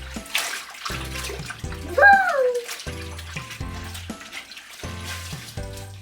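Water runs and splashes into a container in uneven bursts while making tie-dye shirts, as a child squeals and people talk excitedly over it.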